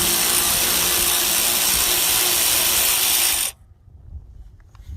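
A ratchet wrench spins out bolts on the steering box of a Kubota compact tractor, a loud close whirring buzz of pawl clicks lasting about three and a half seconds, then stopping abruptly into near quiet with faint handling noise.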